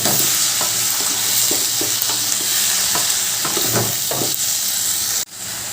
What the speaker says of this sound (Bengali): সেদ্ধ মোচাগুলো ভালো করে কষিয়ে নেব